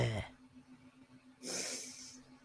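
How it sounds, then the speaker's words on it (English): Sniffing from a person on a live discussion stream, one sharp snort-like intake at the start and a longer breathy, hissing sniff near the middle, close to the microphone over a steady low hum. "there's the sniffing back"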